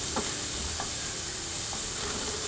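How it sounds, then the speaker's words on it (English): Three finely chopped onions fry in a hot pan, a steady close sizzle and hiss with a few soft stirring scrapes. "just frying the onion a little bit"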